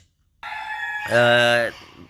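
A rooster lets out a single loud, close crow, rising and then drawn out before cutting off.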